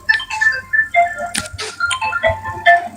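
A melodic phone ringtone plays loudly and close, a series of bright repeating electronic tones in a quick tune lasting a few seconds without any talk.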